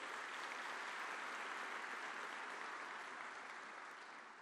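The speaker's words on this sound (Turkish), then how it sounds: "bu salondan kocaman bir alkış gönderiyoruz" Distant, even applause from a large audience rolls on steadily, slowly tapering toward the end.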